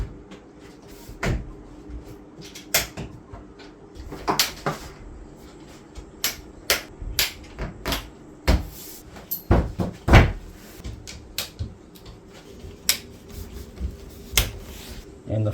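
A heavy front door panel for a KYLIN K8107 infrared sauna is fitted during assembly, with scattered loud knocks, clunks and clicks of wooden panels and buckles over faint background noise and no talking.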